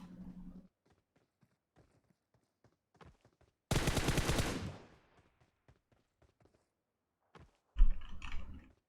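Two loud bursts of video game shooter gunfire, one over a second long and a shorter one near the end, separated by sparse quiet clicks from play in Call of Duty, Free Fire or PUBG Mobile.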